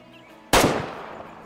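A single hunting rifle shot in Way Of The Hunter cracks sharply out of quiet ambience, then decays in a short rolling echo.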